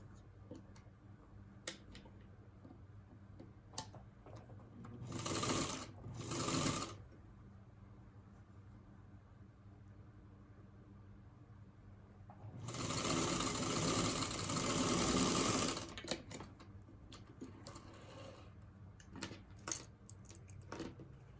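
A sewing machine stitches a quilt row in short bursts: two quick runs, then a longer steady whirring stretch of a few seconds, separated by quiet pauses with small ticks and fabric handling.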